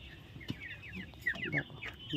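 Month-old chickens cluck and chirp nearby in short, irregular bursts, with faint farmyard background noise.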